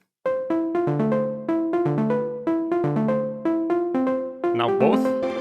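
Synth pluck patch built in Serum, recreating the arpeggiated pluck from a track: a steady melodic arpeggio of bright, short plucked notes with harmonic overtones, loud and clean with no talking.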